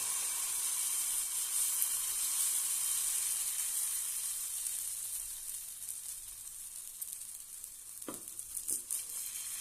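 Cucumber thalipeeth batter sizzles loudly in oil on a hot griddle, a steady bright hiss that eases slightly, with a few soft scraping knocks near the end.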